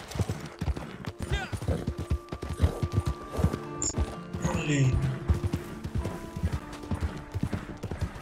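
A horse in Red Dead Redemption 2 gallops with steady clip-clop hoofbeats and a brief whinny, heard under frequent excited talk by players.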